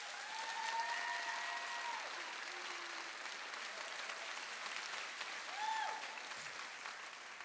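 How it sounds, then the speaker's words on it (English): Graduates at an adult education GED graduation ceremony receive applause from the crowd, a steady, fairly faint wash of clapping with faint tonal sounds over it and no clear talk. "give these graduates another round of applause"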